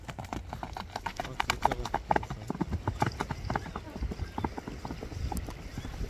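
A big horse walks along, its hooves clip-clopping in a steady, even rhythm close by, while people talk over the footsteps throughout.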